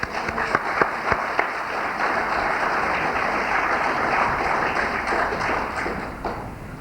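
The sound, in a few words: audience applause at convention lunch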